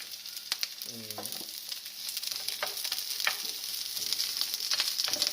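Onions frying in a pan while cooking ginataang crab with vegetables give a steady, close sizzle, with scattered clicks of a utensil stirring throughout.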